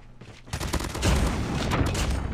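Call of Duty airstrike in QQ9 Sigrun gameplay: a loud, sustained barrage of blasts and rapid gunfire erupts after a brief quieter moment and keeps rumbling on without letting up.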